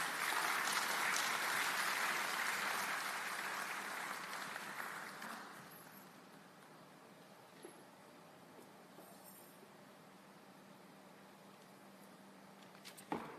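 A conference audience applauds after an economic outlook report on Sub-Saharan Africa, a broad wash of clapping that holds strongly for several seconds, then fades out and leaves quiet room tone with a few small knocks.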